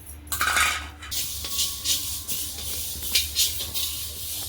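Fenugreek seeds and cardamom pods dry-roasting in a pan for Malvani masala, with a soft hiss and light scraping and rattling of spices against metal, close and moderately quiet.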